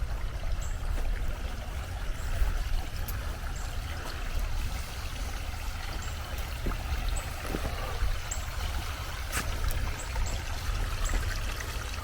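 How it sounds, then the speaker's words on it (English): Continuous flow of water from the East River, a steady low rushing with faint trickling and gurgling close by, unbroken for the whole stretch with a few small clicks on top. "Listening to the waters."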